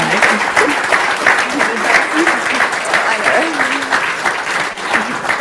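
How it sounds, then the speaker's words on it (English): An audience at an epilepsy organisation's official launch applauds its panellists with loud, steady, dense clapping that holds for several seconds, with faint voices underneath. "Please give a huge round of applause to our panellists today."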